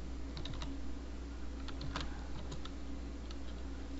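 Sparse keystrokes on a computer keyboard while typing code, with scattered crisp clicks including a firmer Enter press, over a steady low background hum.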